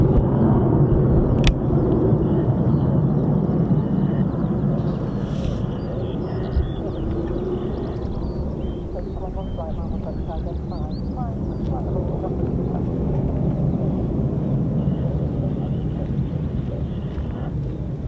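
A pair of F-35B stealth fighters departing RAF Marham together, a loud sustained jet roar dominating the whole stretch with heavy low rumble and wind buffeting, while people talk faintly nearby.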